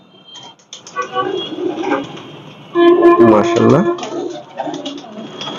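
Pigeons coo softly close by, their low throaty calls mixing with a man's brief speech and some faint rustling.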